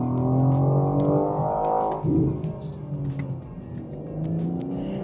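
A 2025 BMW M4 Competition with its racing-derived engine accelerates hard, a loud, close, rising roar that dips briefly at a gear change and then climbs again, with no talking.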